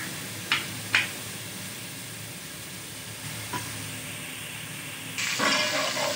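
Garlic and ginger frying in a pan for camel meat nihari, a steady close sizzle and hiss with a few sharp clinks of a spoon against metal, growing louder and brighter toward the end.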